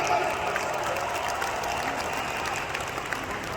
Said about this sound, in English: Can we give our RIWAY leaders a round of applause today?